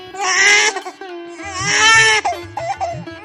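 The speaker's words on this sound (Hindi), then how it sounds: "तभी उसने किसी बच्चे के रोने की आवाज सुनी।" An infant cries loudly in close, wailing bursts, pausing for a breath between them and breaking into shorter whimpering sobs near the end.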